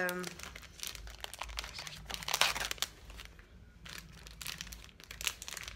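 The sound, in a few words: crinkling plastic packaging of makeup being opened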